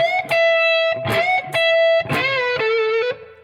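Electric guitar lick, played with a full-tone bend up and back down; loud overdriven notes ring out one after another, ending on a sustained note that fades away.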